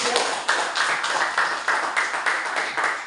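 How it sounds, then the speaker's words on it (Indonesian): A small classroom group applauds a student group, a thin, quiet patter of hand claps falling into a loose, regular rhythm over about three seconds. "Tepuk tangan untuk kelompok 3."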